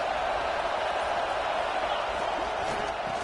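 Stadium crowd in a college football video game swelling as it rises up near the goal line, a steady dense roar of cheering filling the whole clip without pause.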